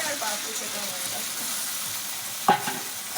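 Marinated mutton hits a hot pan of ginger-garlic spice paste: a continuous close sizzle and stirring hiss, with a sharp clatter as the meat goes in about two-thirds through.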